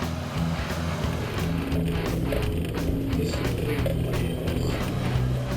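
A small Suzuki SJ 4x4 climbs an off-road obstacle at a club challenge, its engine laboring in a steady, loud drone with mechanical clatter and rattling throughout, fairly close.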